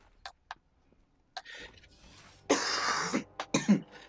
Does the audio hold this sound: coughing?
yes